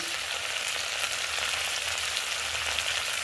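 Vegetarian tarka sizzling steadily in hot oil with curry leaves and kasuri methi, a close, continuous frying hiss with no talk.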